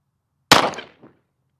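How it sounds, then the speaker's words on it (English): A single sharp shot from a Glock 26 Gen 5 pistol fired one-handed, a loud crack with a brief ringing decay and a faint echo, alone without speech. "let's shoot this gun with one hand"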